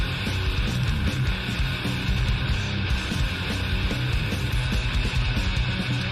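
Death metal recording by God Defied: a constant roar of low, heavily distorted guitars, rapid blast-beat drums and cymbal wash, dense and loud throughout.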